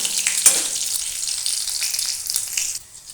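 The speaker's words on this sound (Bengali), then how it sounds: "এবার লঙ্কা আর কাঁচা লঙ্কাকে হালকা করে একটু ভেজে নেব।" Green chillies and dried chilli paste fry in hot oil, a steady close sizzle running through with a brief stirring clatter near the start, dropping off at the end.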